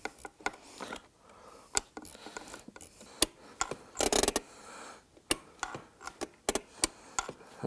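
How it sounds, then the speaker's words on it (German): A screw is tightened on a car's handbrake caliper: a series of sharp ratcheting clicks at irregular intervals, with a short burst of grinding rasp in the middle, fairly close and quiet. "So, jetzt drehen wir die Schraube wieder zu."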